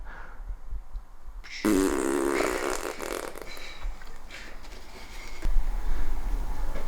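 A voice imitates a turbo flutter, a rough fluttering burst that swells suddenly and holds, with breathy noise trailing after.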